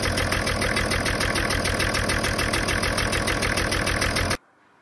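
BMW 335d with an M57 diesel engine and a cracked cylinder block, running loud and close with a rough, rapid rhythmic knock, then cutting off abruptly at the end.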